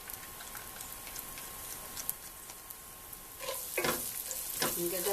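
Fresh chopped garlic frying in a pan gives a faint, steady sizzle that swells louder in the last couple of seconds, with a few soft clicks over it.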